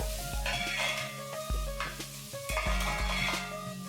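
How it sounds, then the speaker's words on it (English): Star anise, black cardamom and black peppercorns sauté in a pan with onions for mutton keema, giving a steady sizzle broken by repeated sharp clinks of a utensil against the pan, close and without speech. "I'm going to saute this also for a minute or 2."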